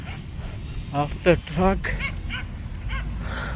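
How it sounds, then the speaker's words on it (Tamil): Dogs out on a walk across a large open ground yelp and bark in a short burst of several yips, fairly near, while a voice speaks over a steady outdoor background. "நாய்களை வாக்கிங் கூட்டி வந்திருக்காங்க"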